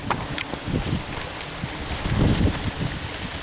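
Strong wind gusts outdoors beside wooden hive boxes, a continuous rough rumbling buffet with louder surges, close and fairly loud with no talking.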